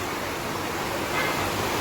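A waterfall and the rain-swollen Patalganga river near the Gagangiri Maharaj math at Khopoli rush in a steady, broad hiss of flowing water.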